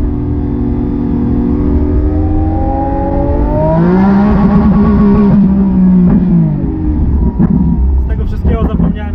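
A Lamborghini Aventador S Roadster engine revs up as the car accelerates, its rising whine sweeping higher then easing off, loud and close, with someone talking over it.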